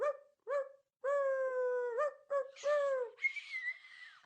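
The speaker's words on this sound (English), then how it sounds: "Oliver, should we do a Timberwolves howl?" Dog howling, a close run of clear, tonal howls and yelps, some short and some drawn out, rising into a higher wavering whine at the end.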